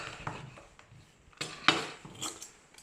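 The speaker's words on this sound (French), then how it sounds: "je vais donc coucher mon ananas et venir découper l'arrière de l'ananas" A knife cuts off the back end of a pineapple laid on its side, giving a few crisp cutting and tapping sounds against a board, close up and fairly quiet, with no voices.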